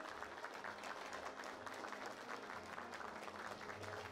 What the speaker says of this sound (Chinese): 全场响起热烈的掌声